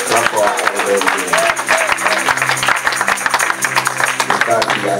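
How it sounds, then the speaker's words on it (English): Congregation clapping for their elder during a lively worship service, dense steady applause running throughout with loud music and crowd babble underneath. "And can we clap for Papa again? Clap for our elder again."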